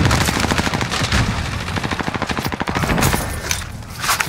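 Loud, rapid automatic gunfire from the video game Call of Duty Warzone rattles in dense, continuous bursts for several seconds with no voices over it.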